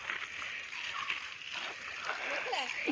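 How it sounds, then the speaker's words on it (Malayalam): Water is poured steadily over a vegetable garden with cucumber plants, a continuous splashing and sloshing hiss lasting throughout, with a faint voice in the background. "വെള്ളം ഒഴിക്കുന്നു"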